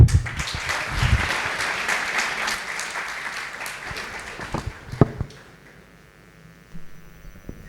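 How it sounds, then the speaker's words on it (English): Loud crowd applause fills the room at a conference inaugural ceremony, dense clapping that swells early then thins into scattered claps and fades toward the end. "so we should actually clap for that."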